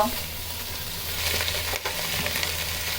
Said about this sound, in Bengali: এভাবে আমরা মাছ উল্টে পাল্টে মশলার সাথে খুব ভালো করে ভেজে নেব